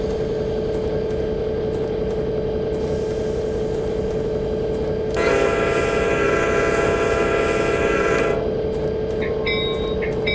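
An Amtrak F40PH diesel locomotive on the Adirondack route in Train Simulator drones steadily with a low engine hum, then a sustained horn blast sounds for about three seconds before the rumble carries on.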